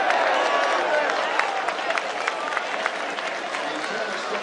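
A stadium crowd at a World Cup match in Canada roars and applauds continuously, a dense wash of cheering and scattered clapping heard from within the stands, loud and sustained throughout.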